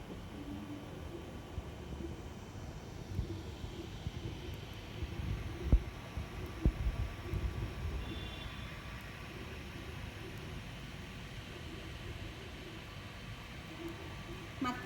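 A 3D printer runs a print with a steady, quiet mechanical hum, a broad wash of low noise, and faint whining motor tones that rise briefly partway through. There are a couple of soft knocks and no voices.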